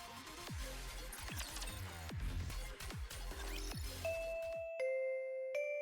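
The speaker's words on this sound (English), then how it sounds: "Ding dong." A school bell in the game NIKKE rings a ding-dong chime, clear tonal strikes ringing out after a run of bouncy musical tones, the final notes sustaining alone into near silence.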